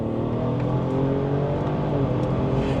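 A BMW 340 xDrive tuned to about 600 wheel horsepower pulls hard in third gear, its engine drone rising steadily and loudly from inside the car with no talk over it.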